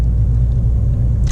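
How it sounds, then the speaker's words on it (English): A manual car creeps forward in first gear across an empty parking lot at around 1800 RPM, giving a steady low engine rumble that stays even and close throughout, with no talking. "now we're driving in first gear"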